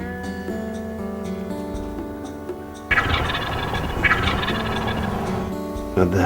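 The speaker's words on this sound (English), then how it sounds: "Now that was a good gobble." A wild turkey on a spring hunt answers with a loud, rattling gobble halfway through, preceded by steady tonal calling, and a second shorter gobble bursts in near the end.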